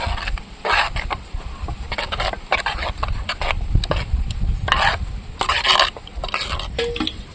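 Tamarind pulp being stirred into lentil dal in a pot, a steady scraping and stirring with clinks of a spoon against the vessel, close and alone with no talk.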